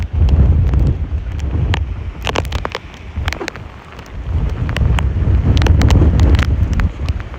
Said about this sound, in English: this wind's coming in hard and it wants to break everything off I have